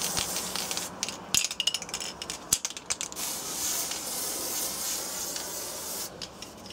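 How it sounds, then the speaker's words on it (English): An aerosol can of hairspray spraying onto a child's hair, a steady close hiss lasting several seconds with short bursts and pauses, some rubbing and handling noise in between, and no talk. "almost used the whole can of hairspray on her"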